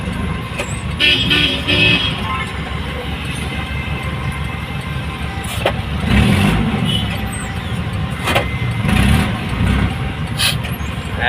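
City street traffic in Dolores, San Fernando, Pampanga, recorded from within the flow: a continuous drone of engines with passing vehicles, several short horn toots and occasional louder swells from nearby cars, with no clear talk.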